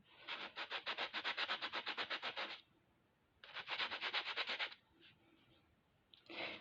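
A sanding block rasps back and forth in fast, even strokes: a long run, a short pause, then a second burst, close and fairly quiet.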